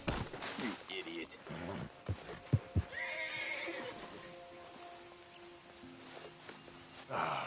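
A horse in Red Dead Redemption 2 whinnies with a rising, strained neigh, followed by hooves clip-clopping, while someone talks over it with short remarks throughout.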